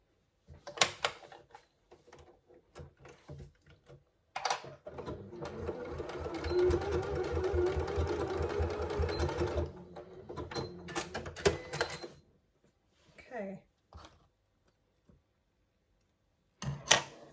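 Sewing machine basting the ends of a zip pouch together: a sustained run of stitching after a few ticks and clicks, followed by short handling knocks and a brief burst at the end.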